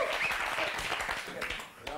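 An audience at a comedy sketch show applauds as a performer is introduced, with dense clapping under a speaking voice that fades briefly near the end.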